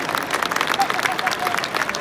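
An audience at the London Classic Car Show applauds as racing driver Tiff Needell comes on stage, with dense, fairly loud clapping and a murmur of crowd voices mixed in.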